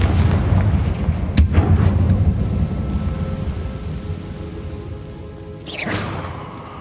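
Confringo and Bombarda explosive spells cast in Hogwarts Legacy: loud, close blasts and booms, including a sharp crack near the start and another burst near the end, over continuous rumbling game noise.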